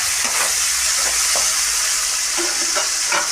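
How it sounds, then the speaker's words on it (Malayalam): Onions fry in a pan for cucumber curry, a close, constant loud sizzle broken by a few soft scrapes of stirring. "നമ്മൾ വെച്ച സവാളയൊക്കെ നന്നായിട്ട് ഫ്രൈ ആയി."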